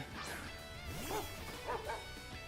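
Dachsbun's cry in Pokémon Scarlet, a short synthetic yipping dog-like call in a few bursts over faint game music.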